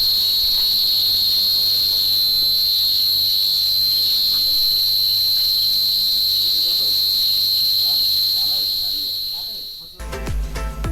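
Crickets chirp in a continuous, loud, high-pitched drone through the night at a forest resort near Ghatshila, steady for about ten seconds before a sudden cut to a different sound.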